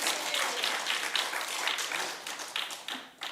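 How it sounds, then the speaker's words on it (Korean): A church congregation claps together at a Sunday worship service, a steady patter of many hands that holds for a few seconds at a moderate distance before tapering off. "박수 한번 치면서 아멘."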